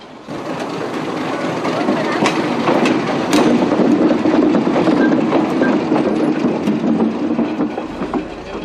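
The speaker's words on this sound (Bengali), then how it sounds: "ওই যে ট্রেন ছাড়লো।" A train pulls out of a station, its wagons clattering in a rolling clickety-clack close by, loud and steady with bursts of metallic squeal.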